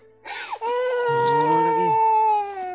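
A young child crying close by, a loud sustained wailing sob with rising and falling pitch that continues for nearly three seconds after a short whimpering start.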